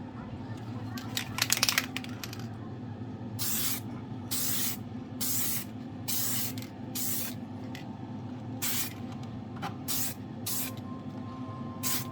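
An aerosol spray can lays a coat of candy paint in a series of short, rhythmic hissing bursts, about ten in all, close by, following a brief rattle of handling.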